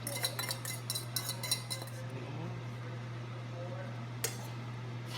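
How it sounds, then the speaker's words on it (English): Seafood is stirred into pasta in a pan, with light clinks and scrapes of a utensil against the cookware over a steady low hum. A brief sharper clatter comes near the end, and the sounds are close but fairly quiet. "So we can now add in the seafood. So we could mix it in."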